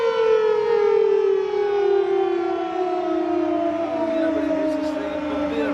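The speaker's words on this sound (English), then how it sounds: "That blinking daily alarm's going off again. Sounds like an air raid siren." A loud air-raid-style daily alarm siren, from a police or fire station in Albufeira, Portugal, wails steadily, its tone slowly sliding downward as it winds down over several seconds, with no talking.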